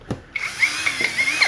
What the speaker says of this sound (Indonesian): Bor ini halus ya teman-teman ya. Raungannya itu kalem ya teman-teman ya.